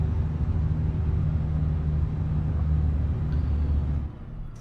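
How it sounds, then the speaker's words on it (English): A heavy truck engine in Euro Truck Simulator 2 drones with a steady, loud low rumble at idle or cruise, holding constant for about four seconds before dropping away quieter at the end. "I didn't expect the truck to be that loud."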